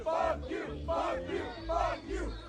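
Large concert crowd chanting in unison at a security guard standing on stage, rhythmic shouted phrases repeating about every half second, loud and close, with no other sound standing out.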